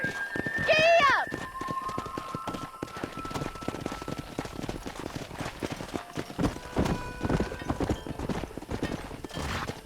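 Horse hooves clip-clop at a steady gallop in the Red Dead Redemption 2 video game, with a whinny near the start and voices talking over the hoofbeats.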